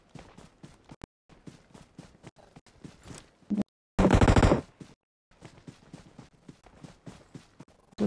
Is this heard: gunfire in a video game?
yes